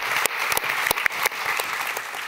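An audience at an evening talk on hormones and PMDD gives a steady round of clapping, dense and even, with a few sharper individual claps standing out and no voices over it.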